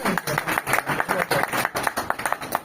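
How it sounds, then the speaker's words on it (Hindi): Audience clapping at a pensioners' association foundation day gathering, a dense patter of many hands with irregular sharp bursts, fairly close and steady throughout, with faint voices mixed in. "क्या इस बात को तालियां बजाई जा सकती है?"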